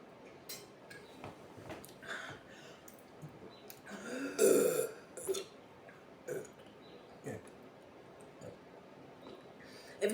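A burp after drinking Knox sparkling hydration drink, one loud belch near the middle that stands above a background of low, intermittent noise.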